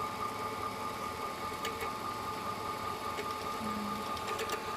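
A sewing machine winds a bobbin with metallic thread, giving a steady, continuous mechanical whir and hum at low volume with faint ticking, running evenly throughout with no speech.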